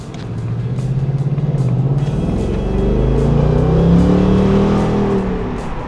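A 2024 Ford Mustang GT convertible with a deep V8 rumble pulling away, engine note rising steadily and loud throughout, close to the car with no talking.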